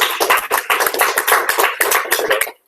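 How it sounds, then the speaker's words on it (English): Conference audience applauding a speaker presenting on simplifying the Lambda architecture: a steady, dense patter of many hands clapping for a couple of seconds, then cutting off abruptly. "please give a warm round of applause for us"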